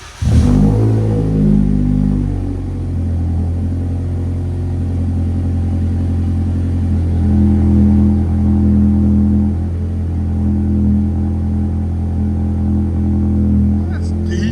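A 2023 Toyota Camry SE with a 2.5L engine, Magnaflow Magnapack exhaust and muffler delete fires up with a sharp blip, then settles into a deep, loud, steady idle rumble close by.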